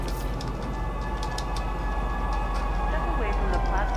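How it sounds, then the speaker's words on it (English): A metro train arriving at a station in the video game Star Citizen, a steady loud rumble with humming tones and a rising whine near the end. "train is now arriving from Metro Center"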